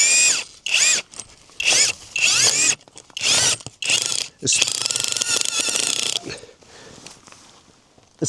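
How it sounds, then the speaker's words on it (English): An inexpensive hammer drill drives stakes into rocky desert ground at a campsite, loud rattling bursts in several bouts separated by short pauses, the last one running longer before stopping. "just a inexpensive hammer drill from Amazon"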